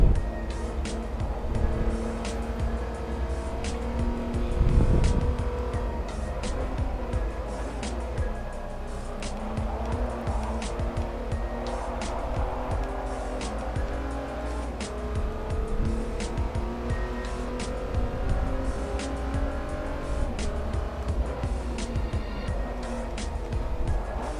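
A Lexus IS 350 in the racing game Forza drones steadily under acceleration, with gear changes, a downshift and bursts of tire squeal over a continuous engine note.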